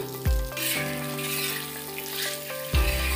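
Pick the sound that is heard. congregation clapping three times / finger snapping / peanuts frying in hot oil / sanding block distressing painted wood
peanuts frying in hot oil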